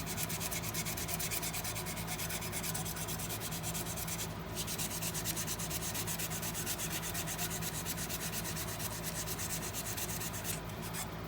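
100-grit sandpaper is rubbed by hand along the grain of a wooden workpiece, making a steady, close, continuous rasping hiss with no voices.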